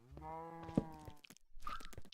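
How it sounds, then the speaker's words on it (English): Minotaurs in a video game moo, one long low drawn-out bellow followed by clicks and a shorter rising call, moderately close but quiet. "The mooing is from the Minotaurs."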